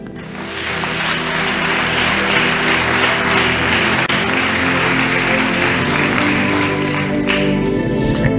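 A church congregation applauds during a sermon, a loud, sustained wash of clapping and cheering that holds steady for several seconds.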